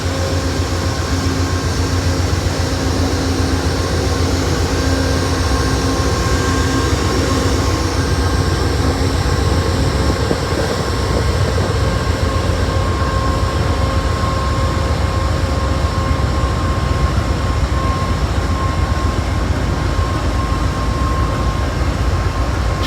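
An Amtrak train hauled by General Electric locomotives rolls past in Florida, a loud, steady rumble and hum of engines and wheels that holds continuously throughout with a faint tonal whine.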